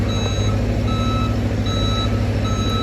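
A truck's reversing alarm in a residential neighborhood beeps steadily about once a second over a constant engine rumble. The beeping is fairly near and continues throughout.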